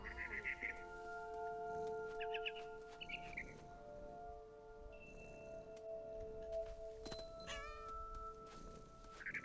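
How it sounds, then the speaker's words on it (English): Cat meowing in the video game What Remains of Edith Finch, a few short mewing calls spread across the stretch over a steady ambient game backdrop with faint bird chirps. "And suddenly, I was a cat."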